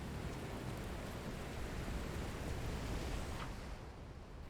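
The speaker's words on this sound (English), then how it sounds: "It's nice that they have all this rain going, and they didn't make the rain effect insufferably loud compared to everything else." Steady video-game rain hisses as a dense, even wash of falling drops, moderately loud and unbroken, easing slightly near the end with no talking.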